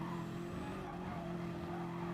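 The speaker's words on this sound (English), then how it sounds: "hard on the brakes, closes up on Bob." Race car engine under hard braking in a Gr3 racing video game at Circuit de Barcelona, a sustained droning engine note with faint tire noise, steady and moderately loud.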